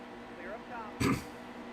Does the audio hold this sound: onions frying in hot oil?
no